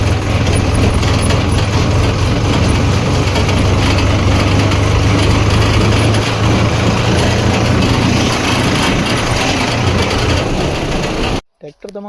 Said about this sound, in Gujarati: પછી આપણે આપણું મહેન્દ્રો લઈને નીકળી ગયા મામાની વાડી તરફ